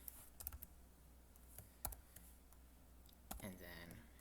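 Scattered keystrokes on a computer keyboard while coding a Python calculator, a few light clicks and taps spread across a quiet background, with a faster cluster of typing near the end.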